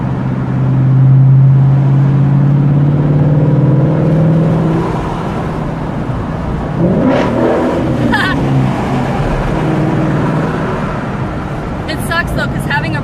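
A bright pink 5.0 car driving on a road toward an overpass, with a steady engine drone that swells and then eases, under a nearby speaking voice.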